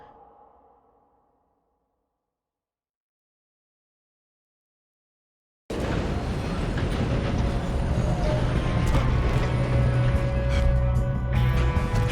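A moving train in the Red Dead Redemption 2 video game rumbles loudly and steadily after a long silence, a broad continuous roar with faint clatter running to the end.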